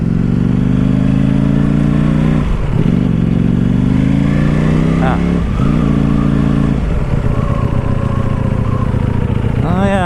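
Ducati Panigale V4 sport motorcycle ridden at low speed, its engine droning loudly and steadily close up with several gear-change dips and rises, a rider's voice briefly over it.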